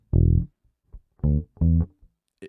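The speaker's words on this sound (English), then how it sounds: "that note is nice and short and punchy" A few short, punchy low bass guitar notes plucked one at a time with gaps between, ending in a brief high click; dry and close.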